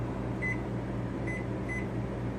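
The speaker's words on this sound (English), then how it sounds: "the RV comes with a convection oven" A convection oven in an RV kitchen hums steadily while cooking spice-rubbed pork, a constant low drone with three short electronic beeps sounding over it.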